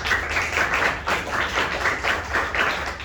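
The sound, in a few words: clapping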